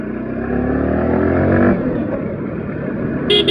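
Motorcycle riding through a market area, a steady engine drone heard close, loudest in the first half and then settling to a rougher, lower rumble.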